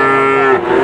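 Calves and cattle low at a busy Pati livestock market, one sustained, loud, close moo with a steady harmonic tone that wavers and fades near its end, with no talk over it.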